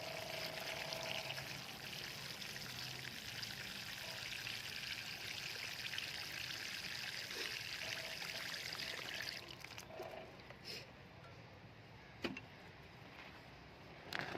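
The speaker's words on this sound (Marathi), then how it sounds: "आता पाणी घालत आहे मी।" Water is poured onto freshly placed soil around a newly potted Monstera plant, a quiet, steady stream and trickle running for several seconds before tapering into faint drips.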